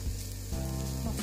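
Carrots and other vegetables frying and being stirred in a pan, a steady close sizzle with a brief shift midway as the mix is turned.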